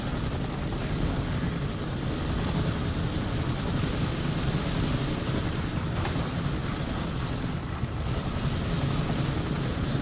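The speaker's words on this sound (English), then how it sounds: "That's the chopper." Steady, loud helicopter rotor and engine drone from Gotham Knights, the game's chopper, holding constant and unbroken throughout at close range.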